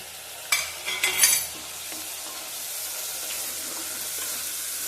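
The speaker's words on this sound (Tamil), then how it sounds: "எண்ணெயிலேயே நல்லா வதங்கணும்" Carrots and butter beans sauté in hot oil with a steady, soft sizzle throughout, marked by a brief burst of louder stirring and scraping near the start.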